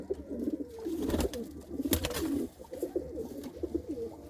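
Pigeons kept in a loft coo softly in overlapping, throaty rolling phrases, fairly close and quiet, with a couple of sharp clatters in the middle.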